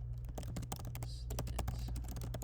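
Rapid clicking of computer keyboard keys as text is entered, a steady run of close, light taps with a low mains hum underneath, no voice.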